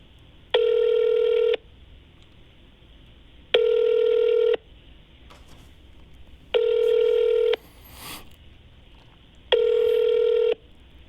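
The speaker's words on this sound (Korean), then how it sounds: "신호 가는데요?" Ringback tone on an outgoing telephone call: four clear, steady one-second tone bursts spaced evenly about three seconds apart, with faint background hiss and no talking.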